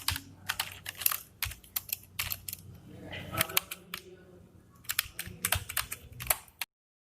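Close-up computer keyboard typing while writing code, with quick clusters of crisp keystrokes separated by short pauses.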